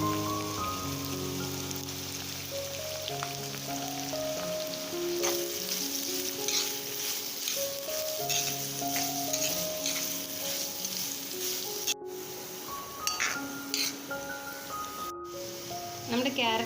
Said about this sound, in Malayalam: ഇനി ഈ ഡാൽഡയിലേക്ക് തന്നെ ക്യാരറ്റ് ചേർത്ത് നല്ലതുപോലെ വഴറ്റാം.